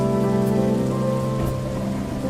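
Heavy rain pours down on a farm field, a loud continuous wash close at hand with a steady low rumble beneath and no voices.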